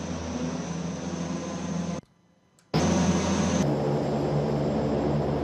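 Airbus A400M turboprop engines in Flight Simulator X, a loud steady broadband drone that cuts to near silence for under a second before resuming at full strength.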